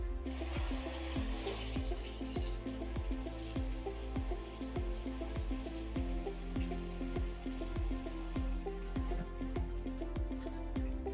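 Water from a running tap splashes steadily over the parts of a Cobi 18 robot floor cleaner being rinsed in a sink, with a continuous trickle and repeated small drips and taps throughout.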